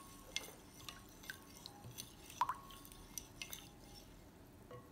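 A spoon stirs yeast and aspirin into water in a glass, giving faint, scattered light clinks and taps against the rim, quiet and close, with no voices.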